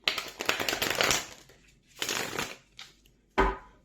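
A deck of tarot cards is shuffled in a few quick riffling bursts separated by short pauses, close and crisp, with no voices.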